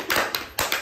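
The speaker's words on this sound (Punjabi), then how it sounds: "ਸਾਰੇ ਪਹਿਲਾਂ ਤਾੜੀਆਂ ਲਓ।" A family claps for a birthday cake cutting, a few short bursts of hand claps close by, loud and brief, with no talk over them.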